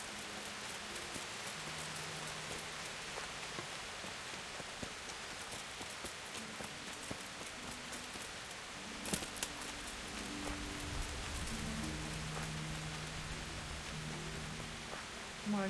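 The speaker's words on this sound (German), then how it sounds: "Im Wald beim Regen?" Steady, faint rain falls in a forest in Kingdom Come: Deliverance, a soft continuous patter with a few louder drips and no talk.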